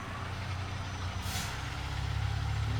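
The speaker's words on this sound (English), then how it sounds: "It's like a big ass truck." A big truck loaded with lawn equipment and large white boxes rumbles close by with a steady low engine drone, with a short hiss of air midway through.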